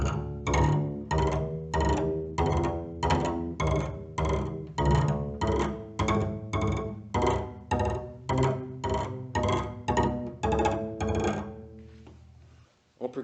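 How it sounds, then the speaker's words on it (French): A double bass struck on its head plate gives a steady run of about twenty-five rhythmic percussive knocks, evenly spaced and fairly close, each with a resonant tonal body, ending with a brief pause. "Lorsqu'on frappe la plaque de tête,"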